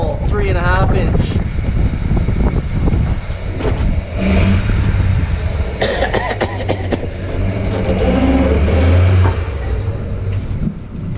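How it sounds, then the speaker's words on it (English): A stock diesel truck with a 3.5-inch exhaust revs loud and close while rolling coal, engine roar surging and holding under wind buffeting, with people talking over parts of it. "let me roll coal on the stock truck"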